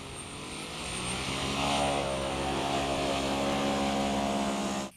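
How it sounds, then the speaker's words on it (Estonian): A scale model V-22 Osprey tiltrotor flies a test flight, its electric motors and propellers giving a steady, fairly loud buzzing drone with harmonic whine that swells slightly and holds before cutting off abruptly at the end. "valmis teiseks katsetuslennuks. Proovime siin natuke edasi lendu teha."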